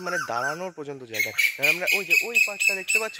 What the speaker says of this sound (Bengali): এই গাছটা থেকে খুবই পাখির ডাক শোনা যাচ্ছে।